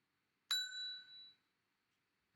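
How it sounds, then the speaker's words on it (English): A single clear ding sounds as a notification in the SoundTrap online music studio, announcing that a collaborator has modified the project, ringing out for about a second in silence before a second chime starts at the end. "we just now got the notification that Mrs. Baxmeyer has made modifications to the project"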